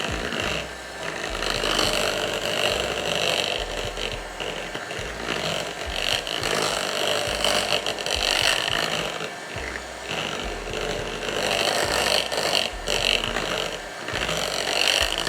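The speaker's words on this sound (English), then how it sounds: "I will use the hand mixer to mix everything" An electric hand mixer beats Easter cake batter mixed with rice puree, whirring continuously up close with a pulsing, uneven low rumble as it moves through the bowl.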